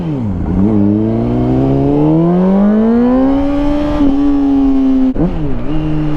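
A 2005 Honda CBR 600RR sport motorcycle accelerating hard on a highway, the engine note climbing steadily through a gear, then dropping sharply at a shift before rising again, loud and close with wind rush.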